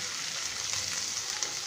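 Grated carrot sizzling in a pan with already fried onion and garlic, a steady soft hiss of frying with faint stirring, continuous and close, no talking.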